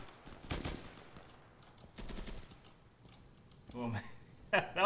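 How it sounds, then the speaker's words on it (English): Bursts of automatic gunfire in the military shooter Insurgency, a couple of distant rattling volleys spaced a second or so apart, followed by muffled in-game movement and voices near the end. "Oh man, that was friendly fire."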